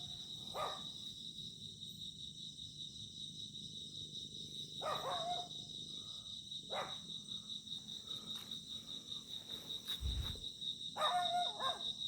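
A dog barks a few times in the distance over a steady, high chirring of crickets in an otherwise quiet night.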